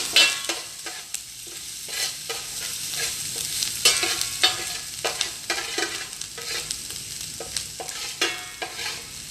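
Onions with chopped green chili frying in a pan, soft sizzling under repeated scraping strokes of a spoon stirring them, close and fairly quiet.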